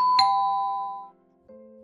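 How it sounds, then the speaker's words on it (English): A doorbell rings with a bright two-tone ding-dong chime, the first tone ringing out and fading before the lower second note sounds, close and clear with nothing else around. "the doorbell rings a millisecond faster"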